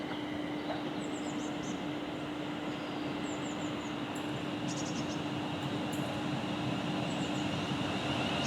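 A London North Western Railway train stands at a station platform with a steady mechanical hum and rumble, and a few high squeals and chirps come through intermittently.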